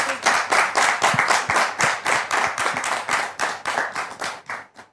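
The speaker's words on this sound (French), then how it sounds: "avec des applaudissements, s'il vous plaît" Audience clapping to welcome a guest on a Christian talk show: distinct individual claps in a brisk, slightly uneven rhythm, close and loud, tapering off near the end.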